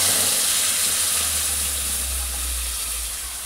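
Blended chutney paste hits hot oil in a wok and erupts in a loud, continuous hiss that eases slightly over a few seconds, with no voices.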